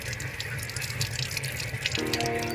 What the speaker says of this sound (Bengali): এই যে আমি এখন এখানে ফলটা ধুতে হবে আমাকে